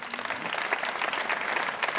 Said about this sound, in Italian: propongo un forte applauso di